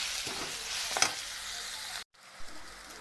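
Onions frying in a pan in a home kitchen, stirred with a utensil: a steady close sizzle with a sharp scrape or clink around one second, cutting off abruptly before faint low sizzling resumes.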